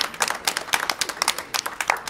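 Small audience applauding at the Vapexpo vape show in Bordeaux, a sparse group of individually distinct hand claps in an uneven rhythm, fairly close and brief.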